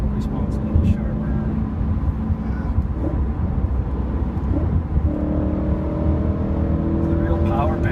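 A BMW E90 M3 engine in M mode with sharpened throttle pulls hard, its note climbing steadily in pitch as revs rise, loud inside the cabin with someone talking over it.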